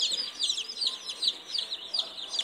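Baby chicks and ducklings in a store bin, a dense stream of rapid high peeping chirps from many birds at once, close and continuous, with no talk over it.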